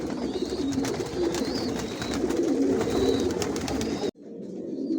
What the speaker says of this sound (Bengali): আর অনেক বেবি দেখাবো, কবুতর দেখাবো আপনাদেরকে।